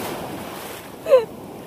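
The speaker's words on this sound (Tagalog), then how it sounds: "Ang lalaki ng alon." Ocean waves wash against a boat in wind, a steady rushing surf with one brief swelling splash near the end.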